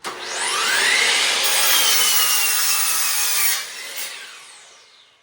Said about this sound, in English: Let's just trim this end of this oak piece out just for the fun of it.